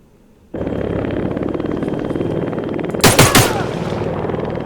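Turret machine-gun fire in the video game ArmA 3: a short, loud burst of rapid shots cracks out over a steady background rumble, then the hum carries on.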